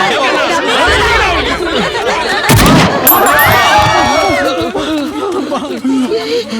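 A single sharp gunshot cracks loudly in the middle of excited chatter and laughter from a group of people in a Tamil comedy film scene.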